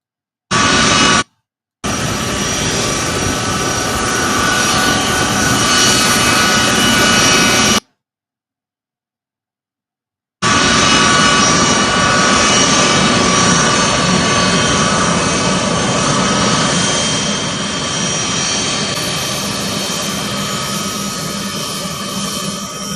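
Jet aircraft at an airstrip beside the Florida Everglades detention site, a loud continuous engine roar with two short dropouts and a slowly fading tail.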